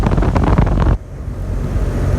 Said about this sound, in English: this is how the Rheem outdoor unit just fired up